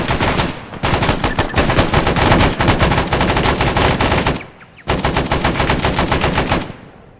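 .50 caliber machine gun fire in the video game Arma 3, two long, loud bursts of rapid shots separated by a brief pause, close and alone.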